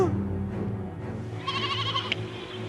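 Goats bleating on a growing farm, a couple of short wavering bleats over a constant low background hum, fairly close and clear with no talking.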